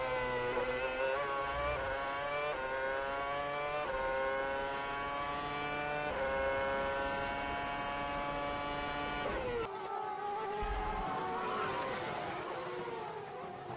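Formula 1 race cars at the 2009 Melbourne Grand Prix scream past with high, steady engine whines that rise and shift in pitch, followed by a sharp change as another car roars through, loud and continuous.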